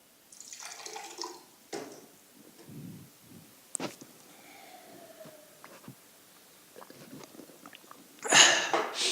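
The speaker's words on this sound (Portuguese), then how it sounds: "eu estou tomando um golinho d'água aqui" A lecturer pauses to take a small sip of water; faint slurps, swallows and small knocks sit in near silence, ending with a louder brief splash-like burst of noise.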